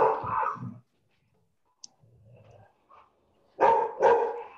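A dog barks in two bursts, a single bark at the start and then a quick close pair near the end, loud and alone with a faint click and near silence between.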